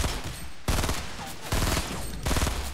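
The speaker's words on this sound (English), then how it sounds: "Oh, I'm getting shot." Gunfire hitting the player in Fortnite Battle Royale: loud, continuous volleys of rapid shots that swell in several waves, close and dense, with no talk over them.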